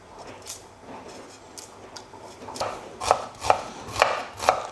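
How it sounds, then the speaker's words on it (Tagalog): A knife chops onion and garlic on a cutting board for a simple Filipino breakfast sopas, starting with light scattered taps and building into louder, regular close thuds toward the end, with no voices. "mag-cut na tayo ng ibang ingredients, kagaya nitong sibuyas at bawang"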